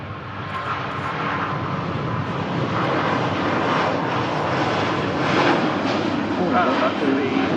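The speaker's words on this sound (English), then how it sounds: "That's the Hong Kong Cathay Pacific service departing 5 days a week." A Cathay Pacific airliner on the Hong Kong service takes off from Manchester, a loud, steady roar of jet engines that swells gradually over several seconds, with people talking faintly underneath.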